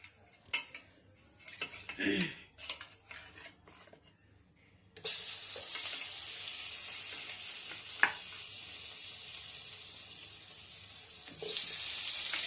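Young jackfruit drops into hot oil with fried potatoes: a few clattering knocks of a utensil, then a sudden loud sizzle that holds steady for several seconds, close up and swelling slightly at the end, with no talk.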